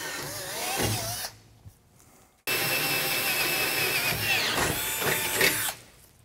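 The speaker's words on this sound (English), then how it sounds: "I'm gonna drill it out with a pilot bit, and then step it up to 5/16." Power drill boring a pilot hole into a 2020 Ram 2500 frame while fitting an air bag suspension kit, a short whir, a pause, then a longer steady grinding drill run that stops abruptly.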